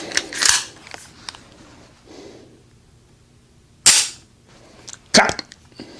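A Kimber Custom II pistol in 10mm Auto firing a few loud, sharp shots at uneven intervals, with quieter mechanical clicks and handling noise between them; the shots sound close, and there is no speech.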